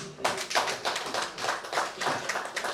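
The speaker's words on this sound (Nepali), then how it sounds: "एकपटक उहाँलाई सम्मान स्वरूप ताली भइदिने।" Audience at a cooperative society's annual general meeting claps in steady applause, a dense, continuous patter of many hands at moderate distance with no voices over it.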